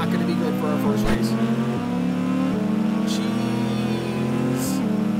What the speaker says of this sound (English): It sounds like a turbo, but I don't remember putting in a turbo